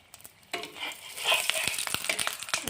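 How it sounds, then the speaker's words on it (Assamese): Lachha paratha frying in refined oil on a pan, a steady close sizzle with crackling bursts that swells after a quiet start and carries on to the end. "এতিয়া পৰঠাত দি আছোঁ আৰু অলপ ৰিফাইন তেল।"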